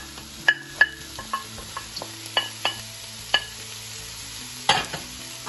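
Spring onions, red onion and bell pepper fry in oil in a frying pan, a gentle sizzle beneath a series of sharp scraping and tapping stirs from a utensil against the pan, irregularly spaced.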